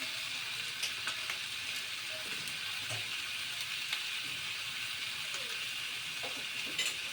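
Green peas sizzle after going into a pan of potato curry, a soft continuous frying hiss with faint crackles and the occasional scrape of stirring, fairly quiet and without talk.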